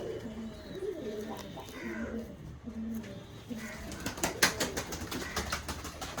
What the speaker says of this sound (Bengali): লেজটা দেখুন, বন্ধ লেজের পায়রা